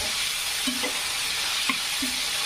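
Onion fries in a pan for egg bhurji, a steady close sizzle with a few light scrapes and taps from stirring, no voices.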